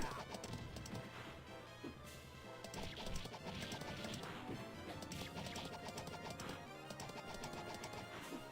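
Horse in a video game, clip-clop hooves mixed with crashing, smashing impacts and thwacks over a dense, busy game soundtrack, with no clear talk.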